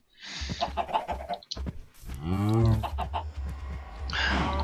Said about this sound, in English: How did the chicken get in there?